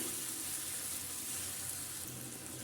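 Olive pickle cooks in a pan with a steady, close sizzle that runs unbroken, while any stirring strokes blend into the frying hiss. No voices are heard.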